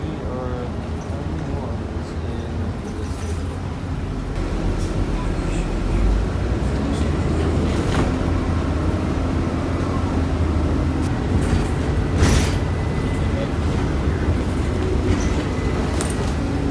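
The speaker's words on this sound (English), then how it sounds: "Sky Harbor's rental facility is a good distance from the terminal and requires a shuttle ride." Rumbling interior of an airport rental car shuttle at Phoenix Sky Harbor, a steady loud drone of engine and road noise with occasional clacks and rattles throughout, and faint voices mixed in.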